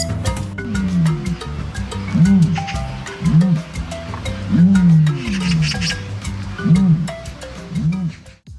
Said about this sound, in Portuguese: Esse é o som que os avestruzes fazem quando se sentem ameaçados.